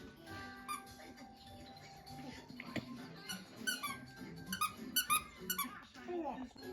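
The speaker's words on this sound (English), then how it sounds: "She got a squeaker toy, and she loves to just squeak it all day long" A dog squeaks a squeaker toy in repeated sharp, high squeals, clustered in quick bursts, while a person talks over it.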